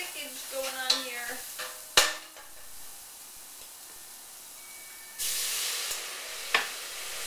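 A Quorn curry sizzles in a pan while being stirred, with scraping and clinking of a utensil, a sharp knock, and a loud burst of hissing steam later on.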